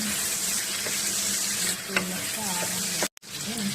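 Garlic and green onion stir-frying in a pan with blanched vegetables, a loud continuous sizzle with a few scraping stirs, briefly cut off near the end before resuming.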